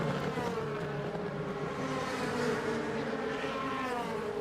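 A BMW DTM race car enters the pit lane at Zandvoort in 2014, its engine a faint, distant whine held under a steady background roar, with no clear pass-by peak.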